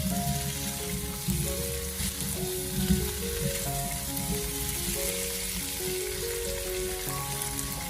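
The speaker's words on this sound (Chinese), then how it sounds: "然后再用锅铲给它轻轻的翻炒一下" Green peppers stir-fried in a wok with a spatula over garlic and fermented black beans, giving a steady loud sizzle and frying crackle throughout, with faint scraping stirs and no talking.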